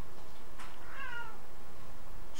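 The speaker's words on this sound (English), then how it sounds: "One of my cats is desperately trying to get into our room here." A cat meows insistently from just outside a room door, a brief plaintive call heard alone and fairly faint against a quiet background.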